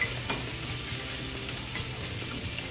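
Chopped onion frying in the same oil already used to fry the Salisbury steak patties, giving a steady, close, even sizzle and crackle throughout with no talking.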